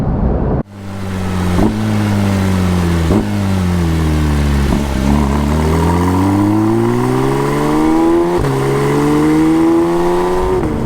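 A Porsche 911 GT3 of the 992.1 generation with a 4-litre flat-six revs hard and close, its loud tone climbing through several gears with short breaks at each shift, rising to a high wail.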